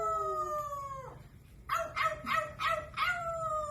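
A parrot imitates a dog's howl: a long falling tonal howl, then a short pause and a run of five rhythmic yelping barks, close and clear, with no talking.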